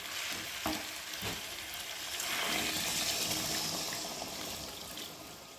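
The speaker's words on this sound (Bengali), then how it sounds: "আর এখন আমি গরম করে রাখা জলটাকে ঢেলে দেবো" Warm water poured into a pan of cooked chicken curry, with a faint sizzle and splash swelling into a soft, steady bubbling hiss, a couple of light clinks at the start.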